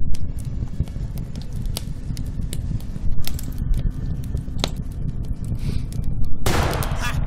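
Overwatch gunfire in the tactical game Achtung! Cthulhu Tactics, a loud continuous stretch of crackling shots and bursts over a dense rumbling backdrop, with heavier blasts near the end.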